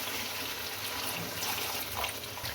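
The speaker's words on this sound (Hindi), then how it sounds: "अब ये दही वाले के अंदर ही हाफ कप के करीब मैंने पानी डाला है वो इसके अंदर डाल दें" Close, steady pour of about half a cup of water into a pan of chicken curry with a yogurt-based masala, a continuous watery splash and trickle lasting a few seconds with no one talking.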